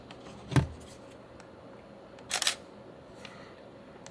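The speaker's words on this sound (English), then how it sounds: "when it comes time to take a photo, you just hit the shutter button" Two quick mechanical shutter clicks from a Canon EOS Rebel T5 DSLR, a sharp snap followed later by a double click, crisp and close in a quiet room.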